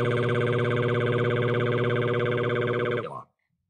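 A police car siren in a loud, steady electronic tone pulses rapidly for about three seconds, then cuts off abruptly into silence.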